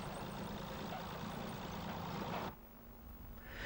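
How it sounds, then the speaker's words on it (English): A Massey Ferguson tractor converted to run on rails on a peat railway, its rail wheels chain-driven off the rear axle, chugs with a steady rumbling engine, faint and distant. "A number of Massey Ferguson tractors have been converted to run on rails."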